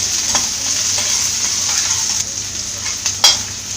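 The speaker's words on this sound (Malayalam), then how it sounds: "പച്ചമുളക്, ചെറുതായിട്ടൊന്ന് വഴറ്റിയെടുക്കാം." Green chillies sautéing in a hot pan with curry leaves for a Kerala green tomato thoran, a steady close sizzle with light stirring scrapes and one sharper clatter near the end, no talking.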